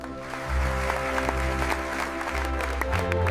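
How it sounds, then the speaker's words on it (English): A room breaks into applause, a steady crowd of clapping hands layered over a droning, sustained musical bed that holds underneath the whole time. "The room applauded."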